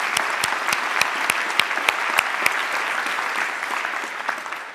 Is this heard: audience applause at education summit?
yes